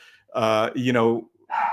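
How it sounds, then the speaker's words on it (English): A dog barks and whines close by in a few loud, harmonic yelping bursts separated by short pauses, with no talk over it. "sorry for the dog"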